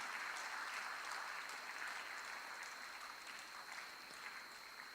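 A conference audience applauds steadily and densely for several seconds, many hands clapping in a sustained wash that fades slightly toward the end.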